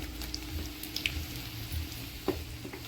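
Garlic frying in hot oil with cumin in a pan, a faint steady sizzle with occasional light clinks and stirring.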